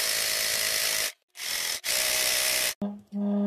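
An Elgin Genius sewing machine stitches decorative embroidery-like patterns, giving a loud, close, steady motor whir in short bursts separated by brief pauses, with no talking.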